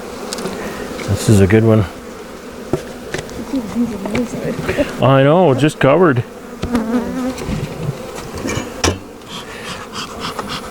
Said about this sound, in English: Box of bees, I think.